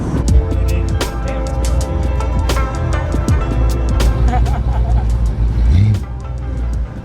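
A car accelerates hard beneath a bridge at an after-dark car show, its loud engine roar echoing and sustained close by with a rising note near the end.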